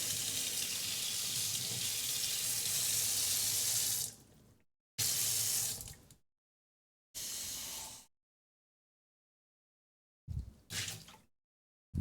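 Warm water gushes steadily from a kitchen tap for about four seconds, then runs in short bursts as the flow is turned on and off while being measured, with silent gaps between.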